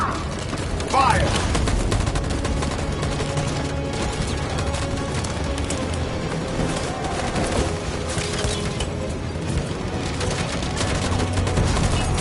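Sustained gunfire fills a shootout in the video game Detroit: Become Human: a dense, loud fusillade of overlapping shots and bursts runs throughout, with mechanical clatter and a few shouted voices underneath.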